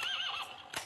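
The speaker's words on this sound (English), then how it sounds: "Horse. A horsey." A toy horse gives a single whinny with a wavering, rising-and-falling pitch across most of the moment, then a short clip-clop-like burst near the end, heard close and alone.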